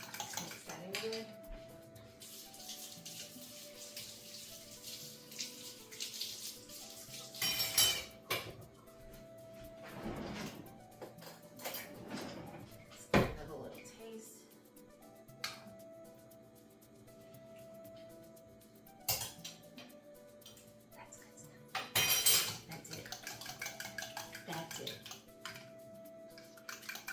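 A spoon clinks and scrapes against a bowl while bread pudding ingredients, seasoned with a few shakes of salt, are mixed together. The sound is quiet and irregular, with intermittent sharper knocks over a low background, and a person speaks at times.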